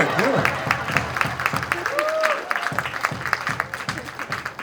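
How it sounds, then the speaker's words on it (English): Scattered clapping spreads through a conference audience at an annual rights gathering, with individual claps audible in uneven bursts while voices talk over and around it. "I'll clap for myself."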